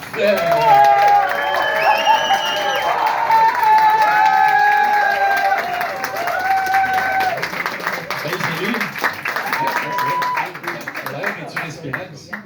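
A pub crowd at a stand-up comedy night applauds and cheers as a comedian is welcomed, with dense clapping and scattered whoops and whistles that ease slightly but continue for about twelve seconds.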